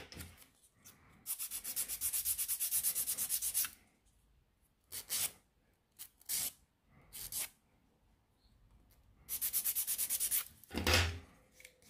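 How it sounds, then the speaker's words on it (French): Nail file rubbing across the top of a fingernail while shaping a reverse French almond nail, heard as close, dry scraping in two long sustained runs with several short strokes between them. "aidez-vous quand vous limez sur le dessus pour ne pas vous faire mal"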